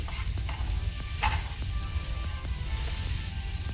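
Masala frying in a generous amount of oil over a low flame for a pomfret masala, giving a steady, close sizzle throughout, with a few soft stirring scrapes and clicks and no talking.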